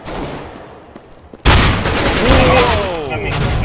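A sudden loud volley of gunfire, a pistol shot in a multiplayer shooting game, bursts in after a quieter stretch and rumbles on with dense, booming reports and whistling streaks overhead.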